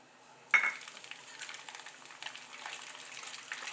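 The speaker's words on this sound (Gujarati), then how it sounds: "મેં પતલી ચિપ્સ કરી લીધી છે તેને આપણે તળી લઈશું" A sudden burst of sizzling as thin dry coconut chips drop into hot oil, settling into a steady soft crackle, close by.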